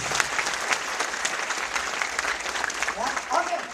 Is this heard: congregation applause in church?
yes